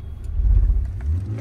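A car drives past on an Indian road, a brief low engine rumble that swells and eases over about a second, fairly close, with no talk.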